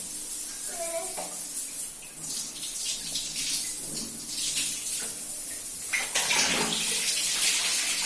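Water runs steadily from a tap during a child's bath, a continuous close rushing and splashing, with brief voices now and then.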